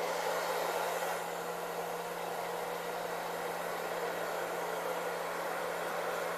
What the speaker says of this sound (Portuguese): Eu deixo o secador na temperatura máxima e na velocidade mínima e vou passar o secador e vou ficar girando